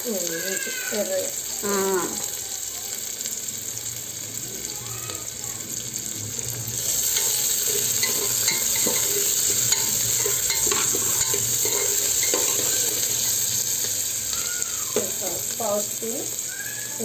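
Onions cooking for a Hyderabadi mutton curry crackle and hiss steadily in a pan, with a stirring spoon scraping at intervals and water running briefly in the background, while people talk over it now and then.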